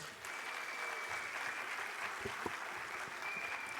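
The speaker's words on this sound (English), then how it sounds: "Can we hear a louder applause for our little ones?" An audience claps steadily and warmly for young children at a school annual day, a sustained round of applause filling the room with no voices over it.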